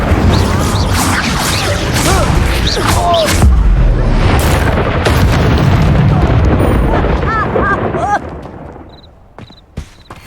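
Loud fiery blast from the Incendio fire spell in the video game Hogwarts Legacy, a dense roaring burst amid game sound effects and chirpy magical tones that sustains for several seconds before dropping away.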